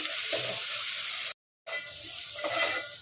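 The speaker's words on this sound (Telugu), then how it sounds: "ఇప్పుడు ఈ టమాటాస్ ఇట్లా మెత్తగా మగ్గాలండి" Tomatoes with curry leaves sizzle and fry in a pan while being stirred, a steady close crackle broken by a brief silent cut partway through.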